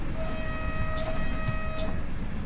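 A steady, sustained train whistle tone in the video game Train Sim World 6, on an ICMm train on the Zwolle–Assen line, holds through the whole clip over a dense rumbling background, with a couple of brief hissing bursts.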